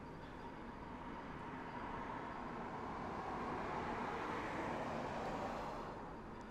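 A car passing by outdoors beside a building, heard as a faint, steady broadband road rush that gradually builds toward the end, with no talking.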